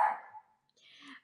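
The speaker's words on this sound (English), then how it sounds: "I'm sorry, my dog." A dog barks at a mailman indoors: one short, loud burst at the start, then a fainter, higher scuffling sound a moment later.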